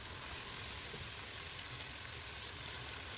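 Marinated chicken hits a kadai of fried onion and tomato and sizzles steadily, a dense, even crackle that stays close and continuous with no voices.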